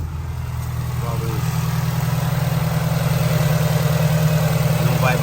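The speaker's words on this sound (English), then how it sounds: "Right now the engine is quiet" A Nissan car engine idling with a steady, low, even hum and no audible stumble, while someone talks over it.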